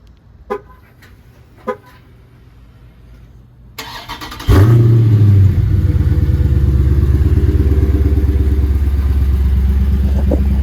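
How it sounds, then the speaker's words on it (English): A 2023 Dodge Challenger Scat Pack cold-starts after a few seconds of near quiet with faint clicks, the engine catching with a sudden loud roar and settling into a heavy, steady, rumbling idle up close. "We're going to start this video off with a little cold start."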